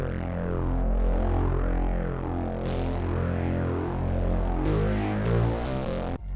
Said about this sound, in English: I started with this record space from the Hologram Serum Bank Volume 1